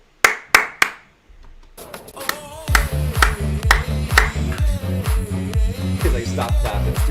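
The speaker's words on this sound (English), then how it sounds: "He's like, stop clapping. It's too early to clap." Three sharp, isolated hand claps ring out close and loud at the start, followed by a dense, droning tonal background that continues to the end.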